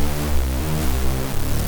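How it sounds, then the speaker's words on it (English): A huge supersaw synth in a tech house production plays sustained, dense chords that shift pitch twice, ending on a lower held chord, loud and alone. "It's it's a huge super saw."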